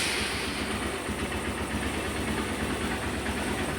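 Honda CB150 Verza motorcycle engine running at idle after a clutch-pulled start, giving a loud, steady, close mechanical rumble with a broad hissy texture and no talking.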